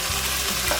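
Prawns frying in hot coconut oil for a Kozhikode-style prawn roast, with a steady close sizzle and the scrape of a spoon stirring through the pan, no voices.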